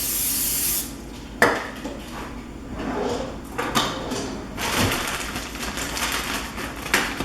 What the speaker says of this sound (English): So spray with some nonstick spray.